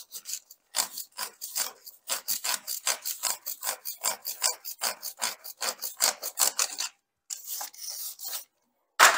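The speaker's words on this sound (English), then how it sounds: "Put the brush on there. Brush it real good." A brush scrubs the drive chain of a Lifan KPR 200 motorcycle in quick, rhythmic rasping strokes, close and steady, pausing briefly near the end.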